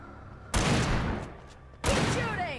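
Gunfire in the video game Alan Wake Remastered: two loud, sudden blasts about a second apart, each with a long ringing decay, close and dominant over a quiet background.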